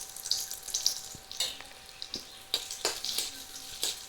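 Bay leaves and dried red chillies fry in hot oil, giving off a soft hiss broken by sharp, scattered crackles and pops, close by with no talking.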